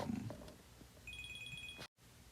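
A phone rings during a call, a short electronic trill of evenly spaced tones repeating over a low background murmur, moderately faint, cutting off abruptly into silence.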